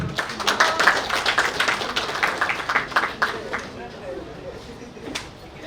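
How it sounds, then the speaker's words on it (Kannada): A crowd at a movie trailer launch event claps, a dense patter of hands that is strongest early on and gradually thins out toward the end. "ದಯವಿಟ್ಟು ಜೋರಾದ ಚಪ್ಪಾಳೆ"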